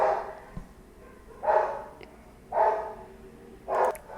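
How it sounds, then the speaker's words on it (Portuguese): Three separate dog barks, moderately loud and a little distant, spaced about a second apart, with a small thump near the start and no talking. "Deixa eu pausar aqui até parar os latidos."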